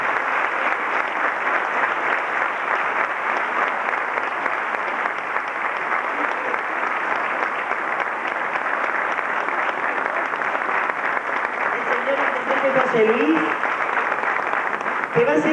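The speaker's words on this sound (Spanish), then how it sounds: "Él está muy acostumbrado a recibir este tipo de aplausos." A theatre audience gives sustained, even applause welcoming an honoured guest at a municipal tribute, with a voice briefly heard over the clapping near the end.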